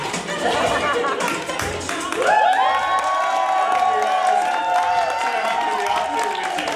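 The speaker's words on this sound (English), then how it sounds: "One more round of applause and so much to cheer about" A theatre audience claps and cheers after a performance, with whoops and high shouts rising over the applause midway; voices chatter underneath.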